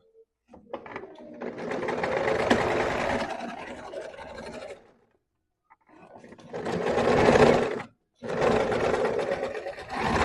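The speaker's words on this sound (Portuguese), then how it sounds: "Vamos passar agora a costura de 1 centímetro também no ombro, dando acabamento e qualidade na nossa peça." A sewing machine runs close by while stitching a 1 cm shoulder seam, whirring in three bursts with short silent pauses between them, the motor speeding up and slowing as each run starts and stops.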